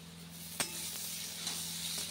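Onions sizzle in a hot pan of frying potatoes, a steady soft hiss with a couple of brief scraping stirs near the start and middle, all over a faint low hum.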